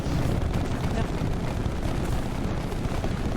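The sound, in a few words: incoming artillery salvo exploding in video game Split Fiction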